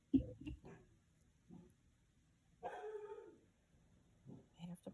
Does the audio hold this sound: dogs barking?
yes